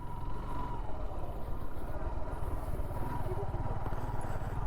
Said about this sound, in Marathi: आपण स्पोर्ट्स बाईकवरती ऑफ रोडिंग करतोय